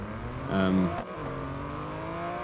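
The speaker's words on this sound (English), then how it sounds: "Let's do a drag race here with the Boxster GTS" Porsche Boxster GTS engine revving hard at a drag-race launch in Real Racing 3, a loud rising rev in the first second, then a steady engine drone at moderate level.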